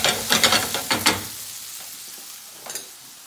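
Ground turkey frying in a hot pan sizzles steadily while a utensil stirs and scrapes through it in a few quick bursts, then the noise settles into a softer fry.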